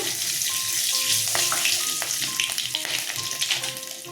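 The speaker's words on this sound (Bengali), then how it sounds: "কাঁচা লঙ্কা ফোড়নে দিলাম কালো জিরা দিলাম" Green chillies and nigella seeds sizzle steadily in hot oil, a dense continuous crackle with occasional sharper pops and stirring clinks, close and loud with no talking.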